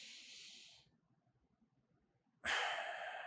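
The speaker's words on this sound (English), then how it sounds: "Deep breath in" Deep inhalation through the nose during a relaxation breathing exercise, a long breathy hiss that fades, pauses, then returns strongly and holds near the mic, with no talking over it.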